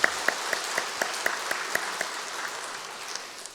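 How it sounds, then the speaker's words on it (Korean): A church congregation applauds the choir and worship team at a Sunday evening service. The dense clapping is moderately loud and steady, with distinct rhythmic claps near the front, and it fades slightly toward the end. "시온 찬양대와 TNO 찬양팀에게 감사와 격려의 박수 하겠습니다"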